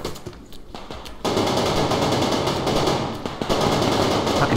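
Rapid gunfire in the Survarium shooter, dense and loud bursts running almost continuously after a brief lull, close and harsh.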